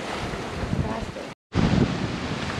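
Ocean waves and strong wind buffeting a boat at sea, a loud roaring rush with heavy wind noise on the microphone, cut off by a brief silence before resuming just as loud.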